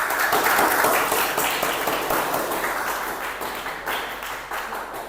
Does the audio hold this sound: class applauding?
yes